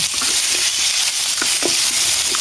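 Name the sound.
sautéing chicken feet with soy sauce in a pan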